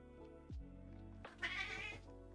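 A house cat meows twice at close range, a short call and then a longer, drawn-out one, with no talking over it.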